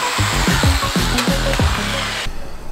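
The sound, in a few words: cutting plastic radiator air deflectors on a Mitsubishi Triton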